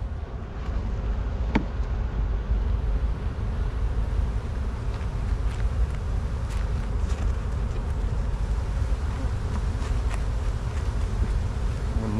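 Honeybees in a hive being built up for almond pollination, a steady dense buzz that holds at an even loudness throughout, with an occasional sharper sound breaking through.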